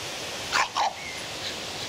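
Two quick barks from a dog going mad with a stick beside a deep river lock where anglers are pike fishing, sharp and fairly distant over steady outdoor background noise.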